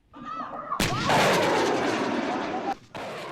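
An American-made Stinger air-defense missile launching: a sudden loud blast cracks in after a quiet moment, then a roaring, rushing burn sustains close and heavy before cutting off briefly near the end.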